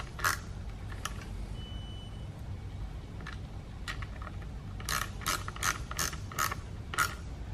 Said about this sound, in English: Use the 10mm and tighten this up.